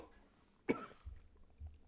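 A single sharp cough bursts out close and alone, followed by a couple of low, muffled thumps in a quiet room.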